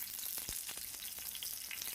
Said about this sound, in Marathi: मिरच्या तेलात छान भाजून घ्यायच्या